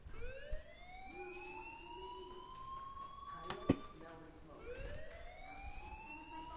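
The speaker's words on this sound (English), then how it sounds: "Hey, do you hear that fire alarm? That means you should be outside." Fire alarm ringing inside the video game Life Is Strange, a rising electronic wail that repeats twice, steady and fairly loud, with a brief sharp click between the cycles.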